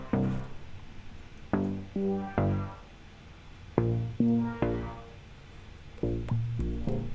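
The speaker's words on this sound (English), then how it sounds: "that sound is actually just a preset from one of the Korg synths" Synth bass from a Korg synth preset with effects, playing a pulsing line of short plucked notes in uneven groups, moderately quiet with a faint hiss underneath.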